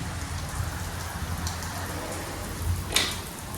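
Heavy rain pours down steadily outside a doorway during a monsoon downpour, a dense even hiss of drops on surfaces with no voices.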